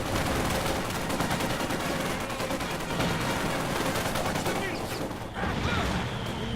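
Battle gunfire in the real-time strategy game Company of Heroes 2, a dense, continuous rattle of rifle and machine-gun shots with distant blasts, steady and loud for the whole stretch, with faint game voices mixed in.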